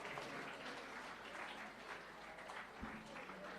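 Continued crowd applause at an inter-school quiz contest, many hands clapping in a steady wash that sounds somewhat distant, with a single sharp knock near the end and faint voices mixed in.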